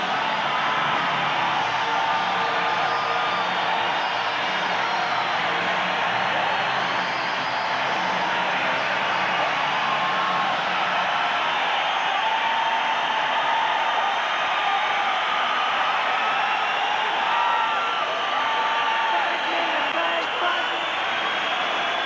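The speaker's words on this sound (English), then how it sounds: "No words could describe the feeling in this crowd." Dense, sustained roar of a packed hockey arena crowd cheering after a Canada goal, a loud broadband wall of noise holding steady without a break for over twenty seconds.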